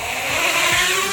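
A neighbor's truck engine starting and running nearby, a steady mid-pitched motor drone with slight revving, heard over a quiet FPV quadcopter.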